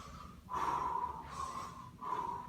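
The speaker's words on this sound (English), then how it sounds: "I don't know if you can hear my breathing. I was trying to make it loud" Loud, deliberate breathing during a CrossFit-style workout: three close, forceful exhales in a steady rhythm, each a rushing breath with short pauses between, alone without talk.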